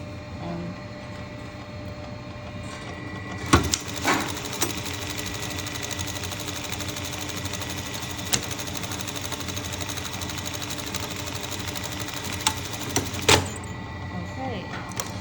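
A sewing machine runs steadily through a buttonhole stitch, a continuous mechanical whir with a few sharper clicks as it starts and stops, heard alone at close range.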